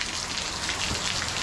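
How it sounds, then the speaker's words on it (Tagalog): Dense, heavy rain from an approaching typhoon pouring down in a constant loud hiss, close by, with no voices. "sobrang lakas ng ulan"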